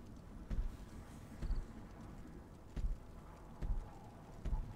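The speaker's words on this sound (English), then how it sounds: "The footstep sounds are pretty good." Heavy footsteps in Mass Effect 2 on the planet Tuchanka, five evenly spaced thudding steps with a hard, hoof-like clop, close over a quiet ambient background.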